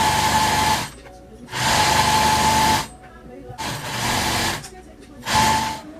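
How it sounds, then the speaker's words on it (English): A sewing machine top-stitches the folded hem of a tulle skirt in bursts of rapid whirring. Four runs of stitching are separated by short pauses, and the machine sounds close and loud. "you guys are going to just top stitch this hem"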